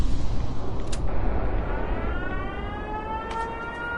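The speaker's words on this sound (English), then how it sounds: "activates all the air raid sirens." Loud, wailing air raid sirens in a video game rise and fall over heavy rumbling noise, with sharp bursts cutting through partway.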